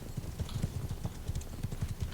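Horse hooves clip-clopping on a ride through the snowy steppe in Mount & Blade 2 Bannerlord, a steady rapid rhythm of hoofbeats, close and continuous.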